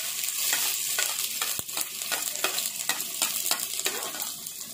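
Onion frying in a pan while nettle soup is prepared, a steady close sizzle with repeated stirring scrapes that come at a fairly even pace, loud and unbroken throughout.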